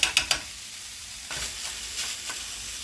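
Garlic sizzling in a pan for ground turkey cheesesteaks, a few sharp clinks of a utensil at the start, then a soft, close frying crackle with stirring scrapes, no talk.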